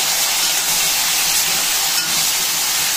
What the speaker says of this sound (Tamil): இந்த எண்ணெயிலேயே அது பொரிய வேகட்டும் கொஞ்ச நேரம்.